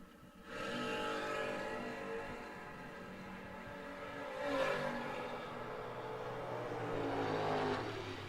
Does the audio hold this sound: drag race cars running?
yes